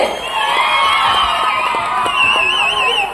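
Crowd at a mimicry artist's show cheers and whoops loudly, with shouting voices over a sustained roar for a few seconds.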